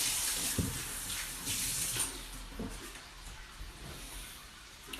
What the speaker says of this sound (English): now we're gonna wash my hands first